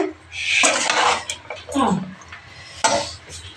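A salad plate of cucumber, onion and large dark chillies is handled in a home kitchen, with dishes and cutlery clattering in several close bursts. Scrapes and clinks come between quieter pauses.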